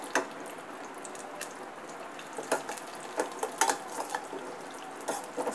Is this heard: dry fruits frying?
yes